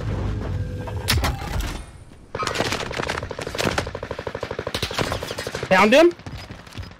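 Gunfire in Call of Duty Warzone, sharp shots followed by a long rapid automatic burst, loud and close, with a player talking briefly amid the shooting.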